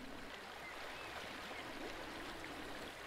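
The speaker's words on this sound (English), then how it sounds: "I hear water." Steady, soft babbling of a flowing stream in the video game A Short Hike, a continuous gentle wash of water with no talking.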